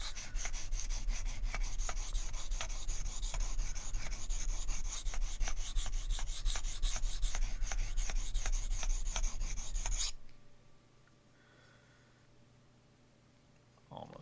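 Cold Steel Kobun knife being sharpened on Sharpal 162N and Shapton 1000 stones: rapid rhythmic rasping strokes of steel on stone, close and steady for about ten seconds, then stopping and leaving quiet room sound.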